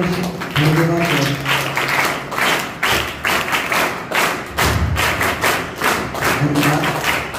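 Audience at Hedgewar High School in Ponda claps in welcome, a loud continuous patter of many hands with a few heavier thuds, while a voice speaks over part of it.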